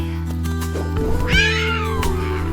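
Cartoon cat meowing in a kids' animated adventure, one drawn-out, rising-and-falling meow heard clearly over a steady background music bed.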